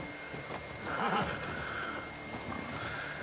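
A horse in The Last of Us Part II whinnies over steady game ambience, a rising neigh near the middle with soft hoof clops around it, moderately close and fairly quiet.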